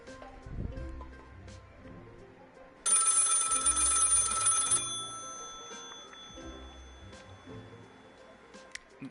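A telephone rings once in a burst of about two seconds, bright and fairly close, against a quiet room with faint movement and rustling before and after.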